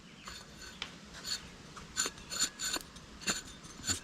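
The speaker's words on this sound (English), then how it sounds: "AC compressor." A corroded AC compressor is turned by hand, giving a close series of dry, scraping metallic clicks and grinding ticks at an uneven pace, with short pauses between efforts.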